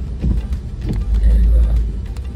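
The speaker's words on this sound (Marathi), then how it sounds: "फायनली या चढावरती ट्रॅफिक आली" Car traffic rumbles past on the Mumbai–Pune Expressway's rainy, foggy ghat climb near Khandala, a loud close low drone of passing vehicles with wind-like noise, no talk.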